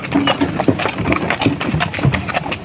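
Two harnessed horses, a mare among them, walk together at work, hooves clopping in a steady rhythm, close and fairly loud, with faint harness jingles and a voice murmuring underneath.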